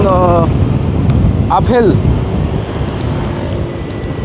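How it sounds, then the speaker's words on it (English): Strong wind roars steadily across the microphone during a ride through Phuket, loud and continuous, while a voice speaks briefly at the start. "very windy"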